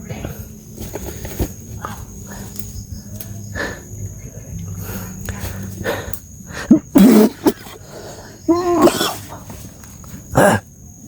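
Several loud, close dog barks come in short bursts late in the clip, over a background of insects and an occasional cough.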